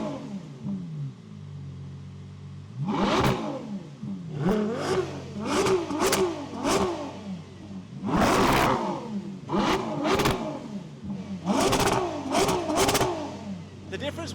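A Ferrari Purosangue with a naturally aspirated 6.5-liter V12 revved in a series of sharp blips, each rising and falling quickly, moderately close over a steady idle, with a pause between the early and later bursts.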